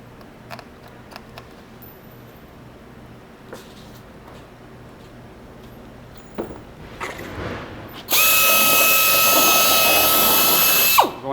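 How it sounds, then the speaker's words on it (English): Scattered clicks and handling noises come first, then a power drill with a 1/4-inch bit bores loudly and steadily through the center of a rotary latch for about three seconds before stopping. "Drill out the center of the rotary latch with a 1/4-inch drill bit."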